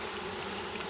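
Thousands of honeybees from installed packages hum around new hives, a brief, steady buzzing drone.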